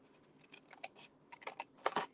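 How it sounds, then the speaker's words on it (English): Scissors snipping through card stock along a score line while making a card, a quick series of crisp, close cuts that grow louder toward the end, with no talking. "So I'm just going to cut down to this score line."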